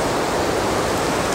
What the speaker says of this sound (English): so that's the spillway right there, and there's like a smaller spillway